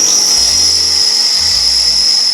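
A drill press boring a hole for barn door rollers, giving a steady high-pitched whine with a low motor hum that drops in and out, close and loud throughout.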